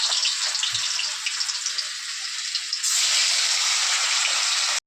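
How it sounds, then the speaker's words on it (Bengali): Raw banana kofta fritters sizzle in hot oil with a steady, close hiss that swells louder partway through as more fritters go into the pan. "চলো এখন বড়াগুলো দিয়ে দিচ্ছি, বসিয়ে দিয়ে ওই যে বড়াগুলো আমি দিয়ে দিচ্ছি একটা করে।"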